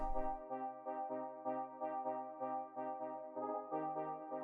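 Layered synth chords from a deep house track, a higher voicing repeating the same chord pattern with its low end trimmed, pulsing in a steady rhythmic sequence of sustained stabs over a low bass tone, with no voices.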